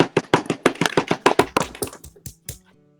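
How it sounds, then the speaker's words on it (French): Hand clapping on a French TV broadcast: about a dozen sharp, close claps in a slightly uneven rhythm that slow and thin out before stopping, with no talk. "on les applaudit bien fort"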